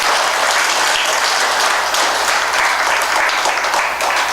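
An audience at a talk gives loud, continuous applause: dense, even clapping that holds steady throughout with no pauses.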